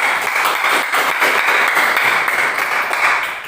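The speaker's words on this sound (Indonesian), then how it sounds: "Kita tepuk tangan dulu." A group of participants in a classroom discussion gives a round of applause for the first group, with dense, loud clapping close by that continues evenly throughout.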